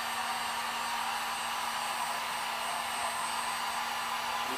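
A heat gun blows steadily while warming plastic tubing for a Dutch bucket hydroponic system, a loud, continuous airy roar with a faint hum underneath, no voices.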